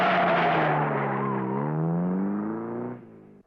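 A car speeds away: a loud, close engine roar with rising, revving pitch and some tire noise holds for about three seconds, then cuts off abruptly.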